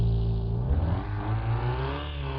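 A car engine revs upward as it pulls away, a rising harmonic whine that climbs, dips briefly and climbs again, loud and close with no talking.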